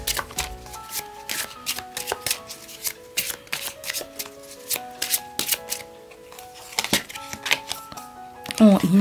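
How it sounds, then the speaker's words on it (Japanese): A deck of oracle cards being shuffled close up, with a steady stream of crisp riffling slaps and clicks that runs throughout and ends in a louder rustle. "こちらのオラクルカードから1枚メッセージを引いて終わりにしたいと"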